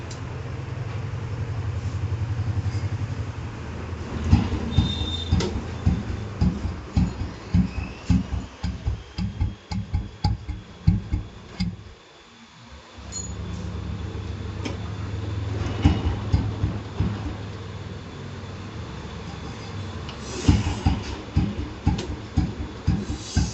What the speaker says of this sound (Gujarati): તમને સાઉન્ડ ચેક કરાવું એન્જિન પર.